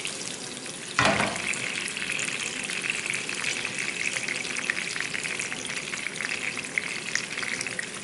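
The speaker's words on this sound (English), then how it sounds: "That butter is popping all over" Butter and oil crackle and pop loudly in a pan as fish fries, a dense continuous sizzle that bursts in abruptly and holds steady with scattered sharp spatters.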